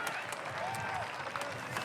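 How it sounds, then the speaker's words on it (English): A crowd claps and cheers for springboard-chop competitors at the St Stephen International Lumberjack Championships, a brief burst of quick clapping with a faint voice mixed in. "Let's get behind them there, gang. Cheer them on."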